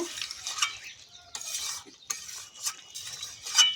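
Duck meat curry with potatoes is stir-fried over low heat, with repeated scraping and clattering of a metal spatula against the pan in uneven bursts over a faint sizzle, with no talking.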